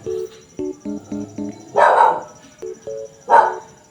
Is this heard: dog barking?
yes